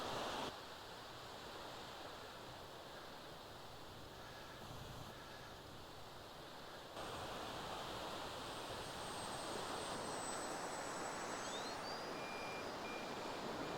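A small light aircraft engine drones steadily, its tone shifting as it makes a low pass at a distance, with no talking.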